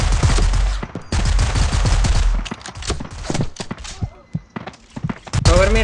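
Rapid pistol gunfire in the mobile shooter FAU-G, a loud close burst of shots for the first seconds, then scattered single shots and thuds trailing off, no talk heard.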